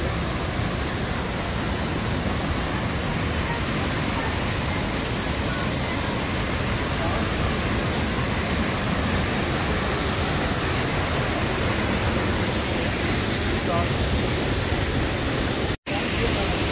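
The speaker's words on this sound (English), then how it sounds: "Twin Waterfalls," Twin Falls, a waterfall on the Road to Hana in Maui, gives a constant broad roar of falling water, close and steady throughout, with a momentary dropout near the end.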